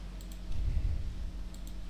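A computer mouse double-clicks twice on a Windows PC, quick close pairs of light clicks near the start and again near the end, with quiet room hum between.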